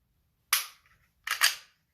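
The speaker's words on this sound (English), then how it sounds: "I have to re-rack the slide slightly on this Glock" Glock pistol slide snapping back twice, two sharp close metallic clacks about three quarters of a second apart, alone in a quiet setting.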